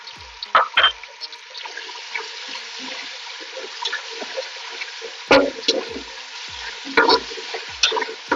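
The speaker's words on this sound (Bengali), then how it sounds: "পেঁয়াজের সাথে ভালো করে কষতে নিব যাতে একটা কাঁচা স্মেল না থাকে" Onion sautéing with ginger and garlic in a pan, a soft continuous sizzle broken by several loud scraping stirs of the spoon, heard up close.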